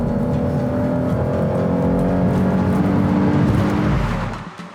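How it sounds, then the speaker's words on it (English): A 2015 Lexus RC 350 F Sport engine revs loudly and steadily through downshifts and upshifts into a corner, a continuous close-up drone with shifting pitch that fades away at the end. "it actually downshifts and then upshifts according to how hard you're going into that turn"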